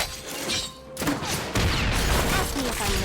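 Video game gunfire, a few sharp cracks and bursts heard alongside other game effects in a short, busy stretch.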